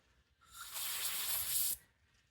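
Aerosol cleaner sprays through the holes of a VVT oil control valve from a 2015 Subaru WRX, a single loud close hiss lasting about a second before cutting off sharply.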